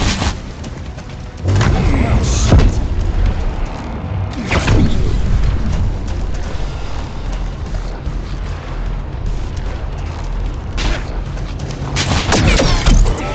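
Heavy booms and rumbling destruction as a structure is torn apart by a quantum disintegration trap in a sci-fi shooter game, loud thuds recurring across the stretch amid game effects and voice.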